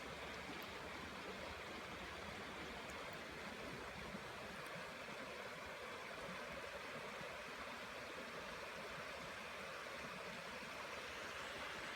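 A river rushes steadily past a solo campsite, a dense, constant wash of flowing water with no voices and no breaks, moderately close.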